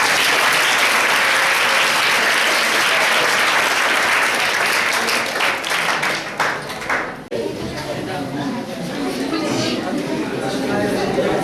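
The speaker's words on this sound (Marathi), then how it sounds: "आवडली असेल तर टाळ्या जोरदार" A college audience at a save-the-girl-child event gives loud, sustained applause that fills the room. The clapping thins briefly midway, then carries on more sparsely.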